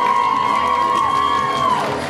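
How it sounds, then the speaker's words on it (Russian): A crowd at a geek convention awards ceremony cheers loudly with a sustained high whoop over dense noise, the cheering continuing without pause. "Аплодисменты, конечно же, нашему участнику."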